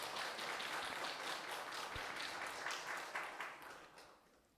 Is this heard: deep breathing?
no